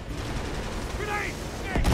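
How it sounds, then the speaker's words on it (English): Gunfire rattles continuously in an Uncharted 3 multiplayer match, a dense layer of shots with a louder burst at the very end, while a brief voice cuts in. "stop with the shooting and such"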